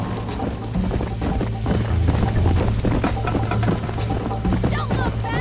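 Horses gallop in the Red Dead Redemption video game, a rapid, continuous clip-clop of hooves close by at a brisk pace, heard alone without talk.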